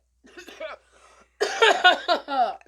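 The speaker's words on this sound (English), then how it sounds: "That cough was held until the game ended." A person at home coughs in a few short bursts, one quiet hack followed by a louder cluster of harsh, rough coughs, close to the microphone.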